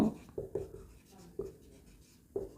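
Chalk or a marker taps and scratches on a board during a lesson, making several short, distinct strokes and knocks in an irregular rhythm, fairly quiet and close.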